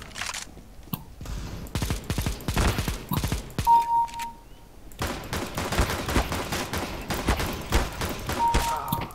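Rapid volleys of gunfire from Valorant weapons crack out in dense bursts across a tactical shooter match, loud and close, with brief pauses between strings of shots and faint voices underneath.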